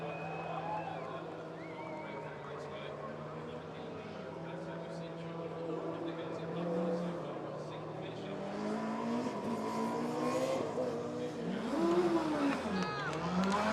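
The University of Aberdeen's Formula Student race car runs on the track at Formula Student UK 2019, its engine droning and then rising and falling in pitch as it accelerates, under continuous commentary from two voices.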